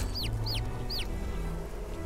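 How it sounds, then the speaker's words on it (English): Chicken in the survival video game Niffelheim clucking three times in quick succession, short bright calls over a steady low in-game ambient hum, with no speech. "I can kill a chicken on the run."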